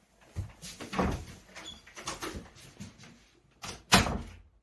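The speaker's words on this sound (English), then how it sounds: "Lock the doors." Doors being shut and locked during a staging of the final act of Hamlet: a few scattered knocks and thuds, ending in one sharp, close slam, with a quiet room between them.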